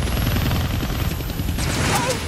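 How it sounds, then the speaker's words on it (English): A helicopter in the Deadpool video game on PS5, a loud, dense rotor drone mixed with bursts of gunfire and crashing impacts, while a brief high whistling sweep rises near the end. "I can't kill that chopper with my guns"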